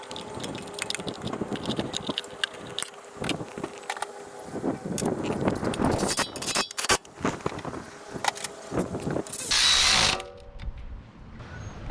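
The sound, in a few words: ratchet tightening bolts during Toyota Camry timing belt job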